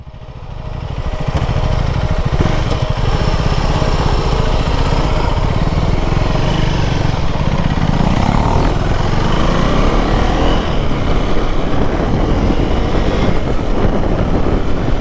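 A Yamaha R15 motorcycle rides on a night highway from Chennai to Pondicherry, its engine buzzing loud and close as it builds from start into a sustained, slightly rising drone with wind rush.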